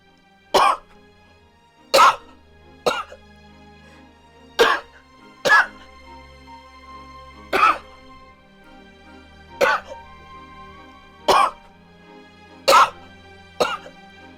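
A series of harsh, hacking coughs in the game Sims FreePlay, about ten of them, coming in separate bursts at irregular intervals, fairly close and loud against quiet background noise.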